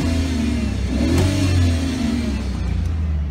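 A car engine revs up and holds at a steady drone, a throttle test after the engine computer was reset on a vehicle in reduced power limp mode; close and loud, with no talk.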